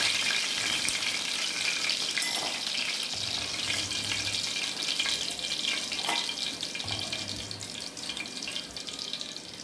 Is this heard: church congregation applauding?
no